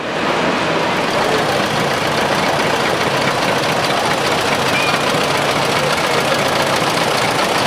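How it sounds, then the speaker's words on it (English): A 1961 International 560 tractor rolls by in a county fair parade, its engine making a steady, loud, close rumble with a knocking chug throughout and no breaks or voices. "Next tractor is an International, 1961 560, owned by Paul Wetzel"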